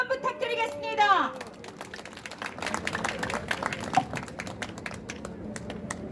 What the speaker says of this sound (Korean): 여러분 큰 박수를 한번 부탁드리겠습니다.